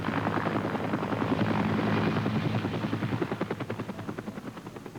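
A medevac helicopter at an air race rotor-thumps loudly at first, then the rapid rhythmic chopping grows more distinct as it fades slightly, with no talking.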